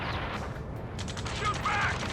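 Gunfire in the aerial combat video game Ace Combat 7, a dense continuous clatter of shots and explosions mixed with shouted radio chatter, steady and loud throughout.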